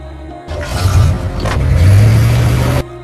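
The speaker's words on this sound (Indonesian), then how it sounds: "kemudian ia tancap gas dengan mobilnya" A car accelerates hard from a film scene, the engine surging up into a loud close roar with a rising tone and road noise for about two seconds, then cutting off abruptly.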